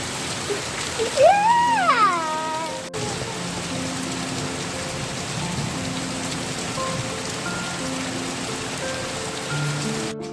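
Heavy rain pours down steadily all around, a dense, loud, continuous wash of drops on surfaces, with a brief rising whistle-like tone near the start and faint tonal sounds beneath.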